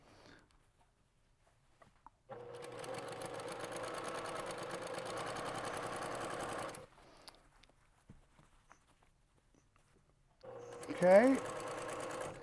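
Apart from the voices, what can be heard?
sewing machine stitching a scrub cap seam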